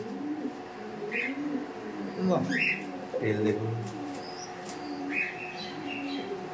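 Racing pigeons cooing inside a loft, a few soft low coos under close conversational talk with faint chirps in the background.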